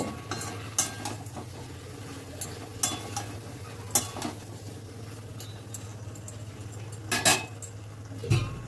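Fried potatoes being mixed into a vegetable curry in a pan, with repeated sharp spoon clinks and scrapes against the metal at an irregular pace over a low steady hum, no talking.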